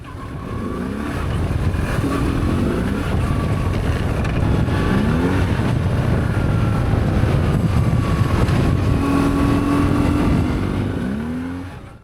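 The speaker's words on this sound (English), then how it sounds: "I have ridden the bike since we got it started and can confirm the clutch slips." A motorcycle with a slipping clutch being ridden, its engine loud and continuous, with revs that rise and sweep in pitch while the bike fails to pull. No voices.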